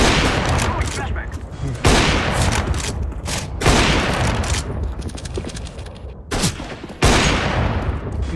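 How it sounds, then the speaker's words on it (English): A flashbang grenade goes off in a shooter video game amid dense, loud gunfire, with repeated sharp bursts and booms that crowd the whole clip. A voice talks under the shooting. "I'm throwing flashbang."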